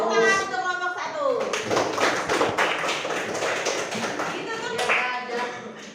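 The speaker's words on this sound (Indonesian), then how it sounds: "Silakan tepuk tangan untuk kelompok 1." Students in a classroom clap for a presenting group, a burst of loose, uneven hand claps that swells and fades, with a teacher's voice and children's speech heard before and after.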